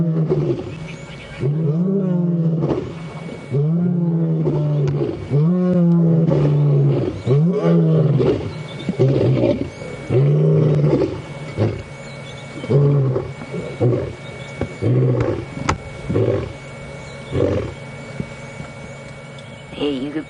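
Two male lions roar together, their deep rhythmic grunting roars rising and falling in a long series of close, loud bursts at dusk on a safari drive, with a vehicle engine faintly underneath.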